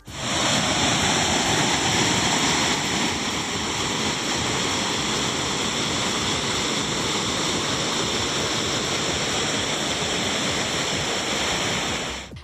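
Heavy roar of the Kalakkad Thalaiyanai waterfall swollen after heavy rain in the Western Ghats, a dense, steady rushing wash of water that stays loud and unbroken throughout with no voices.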